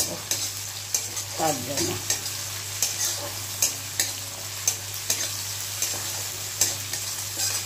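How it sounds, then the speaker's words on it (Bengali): Onions and tomatoes fry in a pan with a steady, bright sizzle, punctuated by regular scraping strokes of stirring; a voice speaks briefly. "দেখো পেঁয়াজ আর টমেটো ভালো করে ভাজা হয়ে গেছে।"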